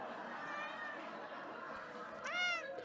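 A cat meows once in a rising, drawn-out call near the end, heard over a steady murmur of background sound and music in a domestic scene.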